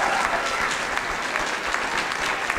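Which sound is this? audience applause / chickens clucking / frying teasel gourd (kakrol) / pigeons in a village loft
audience applause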